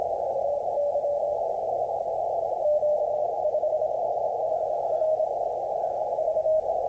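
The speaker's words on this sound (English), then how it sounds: "band noise can be annoying and distracting trying to copy signals, especially if they're weak." A weak CW Morse signal comes through an Icom IC-7300 amateur radio receiver, a faint keyed tone half buried under steady hissing band noise.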